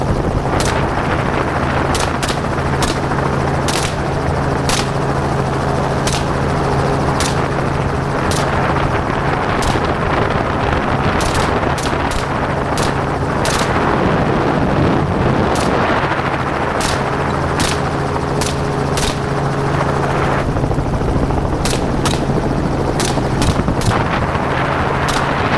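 A helicopter flies overhead during an aerial hog hunt, its loud steady rotor and engine roar running throughout, and sharp gunshots crack at irregular intervals on top of it. No voices are heard.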